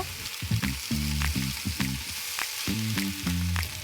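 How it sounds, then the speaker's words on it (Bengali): Spice masala with salt and a little water sautéing in a pan for a cauliflower, potato and fish curry, giving a steady sizzle with repeated stirring scrapes, close and fairly loud, no talk. "পরিমাণ মতো নুন অ্যাড করে খুব ভালো করে কিছুক্ষণ কষিয়ে নেব"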